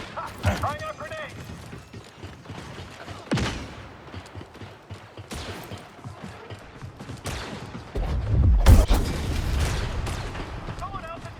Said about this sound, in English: Throwing out grenades.